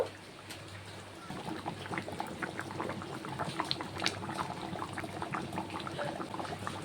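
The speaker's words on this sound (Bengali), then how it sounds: "দেখুন তরকারির ঝোলটা ফুটে গেছে।" Curry broth with taro and prawns bubbles at a rolling boil in a pot, a dense close-up burble of popping bubbles that starts after a quiet second and continues evenly.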